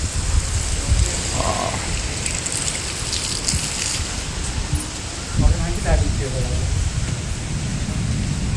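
Heavy rain pours at the hilltop shrine of Baba Dhabaleswar, a steady, dense hiss of downpour filling the whole scene without letup, with a few brief louder knocks and splashes near the middle.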